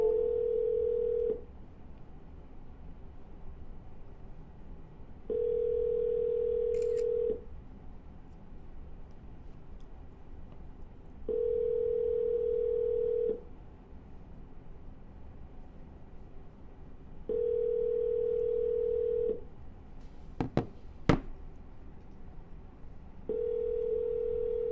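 A telephone call dialed twice in a row, with long steady ringback tones repeating at even intervals, each lasting about two seconds with gaps between, plus a couple of brief clicks near the end.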